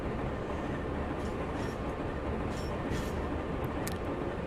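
PRR Alco RS11 locomotive easing in to couple onto cars during Altoona switching: a steady, close rumble with a few faint metallic squeals and clicks near the end.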